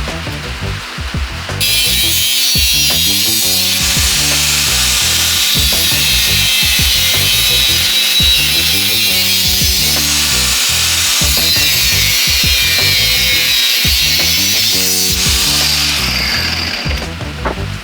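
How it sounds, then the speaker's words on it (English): A power tool cuts a part off a crash-damaged Ducati 959 Panigale during a rebuild, a loud, continuous grinding whine with rhythmic rattling and mechanical chatter underneath, close and unbroken for most of the stretch. "So I think I'm going to have to cut this off."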